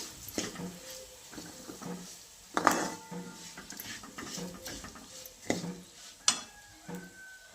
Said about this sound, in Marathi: अगदी मिसळून घेतलं एकदम साधी मटकीची डाळ बघा चांगलंच हलवून घ्यायचं